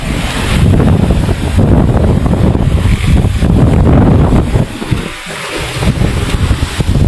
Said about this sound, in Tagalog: Nalalaki naman ang alon na eh.